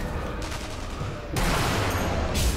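Continuous gunfire from the World War II shooter game Sniper Elite V2, a dense, steady barrage of shots that grows louder and heavier partway through, with no talk over it.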